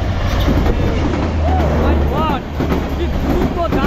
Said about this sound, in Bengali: মৈত্রী এক্সপ্রেস ট্রেনটি আসতেছে দেখুন